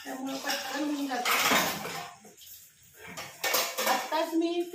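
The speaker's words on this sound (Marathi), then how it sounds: "सगळी भांडी मी इथं भिजवून ठेवली आहेत" Soaked pots, pans and utensils being washed in a home kitchen, with bursts of clattering metal and clinking cutlery alternating with quieter pauses, close and fairly loud.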